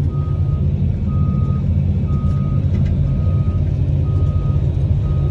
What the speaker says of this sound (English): I'm backing up and unspooling my drum right now.